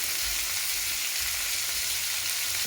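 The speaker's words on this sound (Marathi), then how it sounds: "टोमॅटो टाकून छान त्याला परतून घ्यायचं 1 मिनिटपर्यंत" Chopped tomato and onion sautéing in a pan for dosa bhaji give a loud, dense, continuous sizzle heard up close, with no talking.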